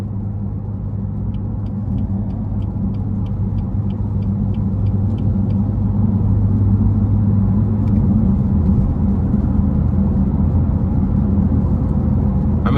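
A 2018 BMW M4 Competition on a test drive gives a continuous low engine rumble and road roar heard from inside the cabin, steady and fairly loud, with faint rhythmic ticking early on.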